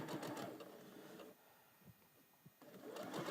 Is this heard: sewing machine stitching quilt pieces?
yes